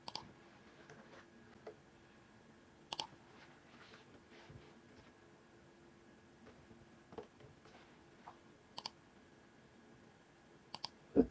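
A computer mouse gives sparse, sharp clicks, single and occasionally doubled, irregularly spaced against a quiet room background.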